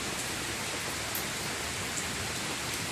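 Steady rain at an outdoor festival, a dense, even hiss that fills the whole stretch with no voices.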